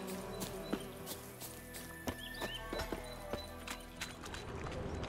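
A horse's hooves clip-clop in an uneven run within The Witcher 3 video game, distinct thuds over a constant low background drone, with faint game ambience behind.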